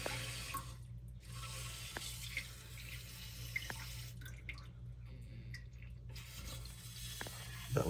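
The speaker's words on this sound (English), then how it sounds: "I don't know if you can hear that, but that's the toilet." A running toilet that will not shut off, its water hissing and trickling steadily throughout with small drips, fairly quiet and close, no talking.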